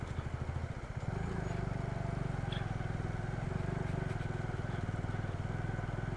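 A motorcycle on a rocky mountain road toward Kalam labours uphill, its engine chugging in a rapid, steady, loud pulse close by, with clattering from the loose stones underneath.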